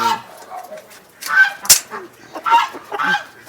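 Bantam chickens clucking in short, scattered bursts at moderate distance, with one sharp click partway through.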